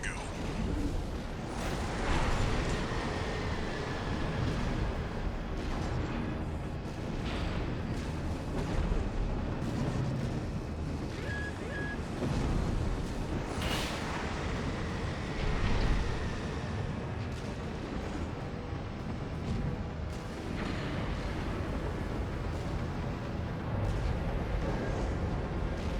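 Heavy explosions and booming blasts from a sub-generator being destroyed in the video game Armored Core 6, dense and continuous with rumbling bursts and some faint voice talk in the mix.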